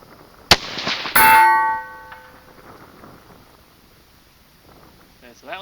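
A cheap .223 rifle fires a 68-grain BTHP match round: a sharp crack, then about a second later a bright metallic clang rings from a distant steel target and fades slowly in an outdoor breeze.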